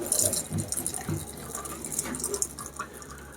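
A rum cocktail is poured from a shaker into a glass, a soft, close liquid trickle and splash with a few faint clinks, quiet overall.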